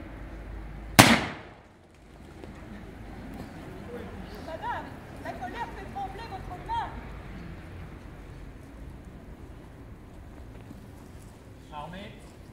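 A single sharp, loud musket shot from an 18th-century reenactment in Grasse cracks out near the start, then trails off into a murmuring crowd and commands spoken in French.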